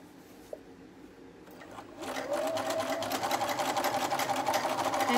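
A sewing machine stitches a ruffle onto a diaper cover, starting after a quiet moment and then running in a steady, rapid close hum of needle strokes to the end.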